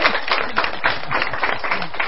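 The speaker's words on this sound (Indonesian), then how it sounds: "Tepuk tangan." An audience claps steadily at an Indonesian studio talk show taped in Bandung, a dense, continuous patter of many hands heard close and fairly loud, with no talking over it.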